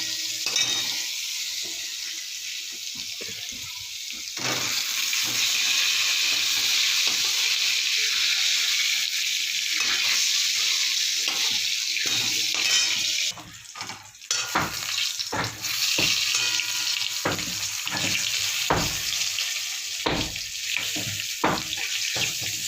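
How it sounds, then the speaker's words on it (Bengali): Brinjal (eggplant) slices frying in a pan, a steady loud sizzle with stirring and scraping, pausing briefly and then breaking into denser clatter toward the end; no one speaks. "এবার বেগুন দিয়ে দেবো, বেগুন ভাজবো"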